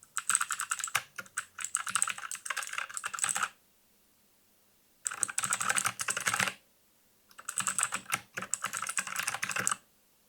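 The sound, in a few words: mechanical keyboard typing about 20 cm from microphone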